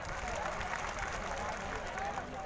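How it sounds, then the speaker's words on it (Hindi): A crowd at an outdoor Birsa Munda birth anniversary rally in Pansemal gives a steady round of applause that stays fairly faint and distant throughout. "उस आयोजन कमेटी के लिए एक बार जोरदार तालियां बजा दो।"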